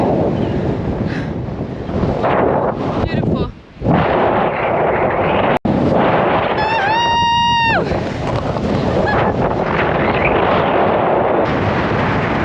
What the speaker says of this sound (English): Looks like it's pretty windy on the other side.